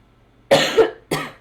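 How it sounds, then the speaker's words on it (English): Two sharp coughs from someone speaking alone indoors, a longer one followed by a short second cough, close and fairly loud against a quiet background. "I don't know why I keep coughing"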